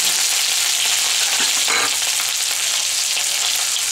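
Chopped ginger fries in a kadai with a steady, loud, dense sizzle that holds evenly throughout, crackling a little more around the middle, with no voices.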